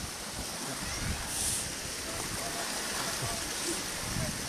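Floodwater rushes down a river during Typhoon Ofel, heard as a dense, continuous roar of flowing water with a slight swell near the middle.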